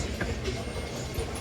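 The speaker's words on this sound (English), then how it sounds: "this is the last train of the day" A freight train rolls past on the tracks, a steady low rumble of wheels and cars with faint clicks, heard briefly at moderate distance.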